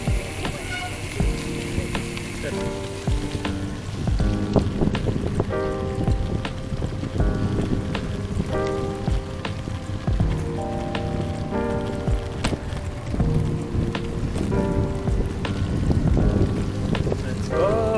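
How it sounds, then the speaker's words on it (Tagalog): Steady rain patters down during a group bike ride in Bataan, a dense wash of drops with wind buffeting the microphone, while people talk over it and tonal sounds drift in and out. "Kahit umuulan, guys."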